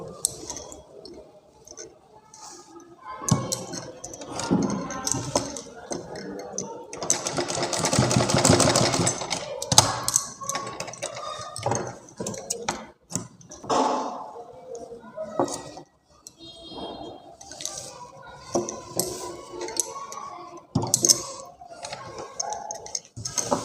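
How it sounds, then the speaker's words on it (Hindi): A sewing machine stitches tulip-style wrap palazzo trouser fabric in short, uneven bursts of rapid ticking, broken by pauses and rustling as the cloth is handled. "इसे पहले यहाँ पे रख के सिलाई कर लेनी है बीच में एकदम"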